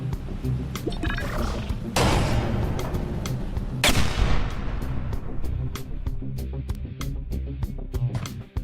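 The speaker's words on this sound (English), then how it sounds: "I heard an explosion." An explosion in the bridge-building video game Bridge Constructor Portal: two loud, booming blasts a couple of seconds apart that stand out above a steady, rhythmic game soundtrack.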